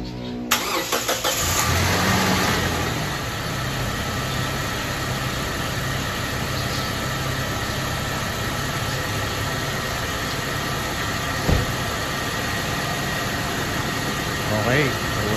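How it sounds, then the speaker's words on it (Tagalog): A Toyota Fortuner engine cranks and starts after a VVT solenoid cleaning, then settles into a steady, loud idle that runs for the rest of the clip, with a few brief clicks near the end. "So try naman natin i-start yung makina."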